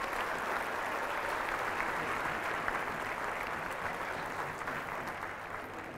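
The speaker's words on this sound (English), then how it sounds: "Big round of applause for all of them." Crowd at a girls' basketball game applauds the players, a steady wash of distant clapping mixed with gym crowd noise, continuous and fairly even throughout.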